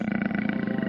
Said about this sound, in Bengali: জঙ্গলের দিক থেকে একটা অস্পষ্ট একটা গর্জন শোনা গেল